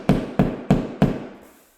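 Four sharp, evenly spaced hammer blows strike drywall over a screw spot to sink it into a dent, each a loud close thud followed by a brief decaying ring.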